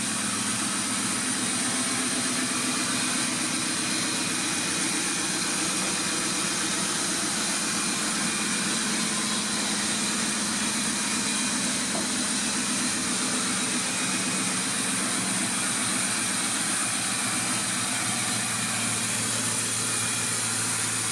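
A 2002 Ford Mustang GT engine runs steadily after a new thermostat install, a constant idle drone with a whirring belt and alternator hum, close and even throughout with no talk.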